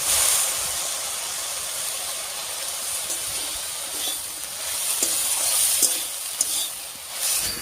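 Dheki shak greens, salted after parboiling, cook slowly in a pan as their released water sizzles off, giving a steady, moderately loud hiss with faint stirring scrapes and no talk.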